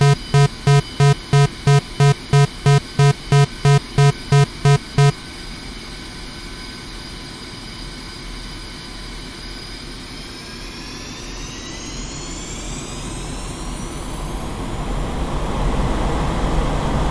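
A rapid series of electronic warning beeps sounds first, then the twin jet engines of a Su-25T in DCS World run at full thrust, a loud, steady roar and whine that swells and rises in pitch.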